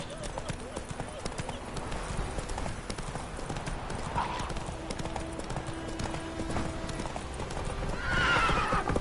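A horse in The Witcher 3 video game gallops with steady rapid hoofbeats, then gives a sharp neigh near the end, all under game music and ambience.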